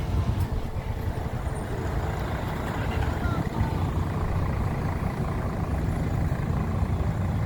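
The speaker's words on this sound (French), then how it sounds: "regardez quelle circulation" Busy street traffic with trucks idling and rumbling, a steady low engine drone filling the scene throughout, with no clear break or single passing vehicle standing out.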